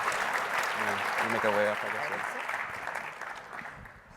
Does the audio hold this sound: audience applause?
yes